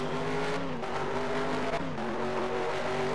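A stock car spins out in a racing video game, its engine droning steadily while the tires squeal and skid. The pitch wavers and dips as the car slides, and the sound stays loud and continuous throughout.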